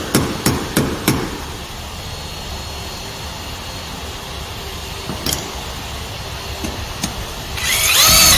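Several sharp hammer knocks on a flood barrier, knocking out its centre piece; about four loud blows close together at the start and a couple more single strikes later, with quiet gaps between and a rising rustle at the end.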